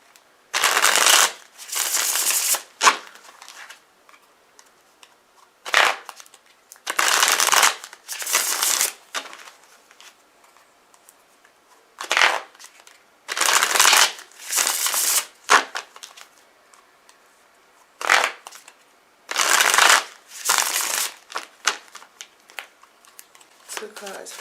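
Tarot cards are shuffled in a series of about ten crisp, papery riffling bursts, each a second or two long, separated by short pauses at close range.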